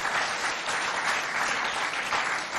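An audience at a school event claps for a speaker who has just finished, giving dense, continuous, loud applause from many hands with no clear break.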